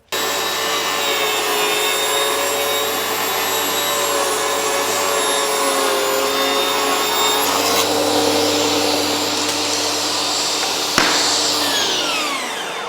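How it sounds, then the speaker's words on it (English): A shop vacuum roars steadily and loudly throughout while boards of interior Smartside siding are ripped to exact dimension, the whine shifting near the end as the saw cut finishes and the motor winds down. "I'm gonna get a vacuum so it doesn't get stupid, crazy dusty in here"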